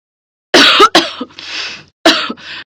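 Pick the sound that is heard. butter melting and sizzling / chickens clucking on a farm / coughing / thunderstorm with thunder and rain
coughing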